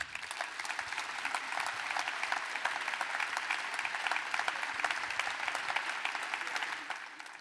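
Sustained audience applause at the opening of the 20th art KARLSRUHE fair, welcoming Ewald Karl Schrade; dense, steady clapping from a large crowd that stays even throughout.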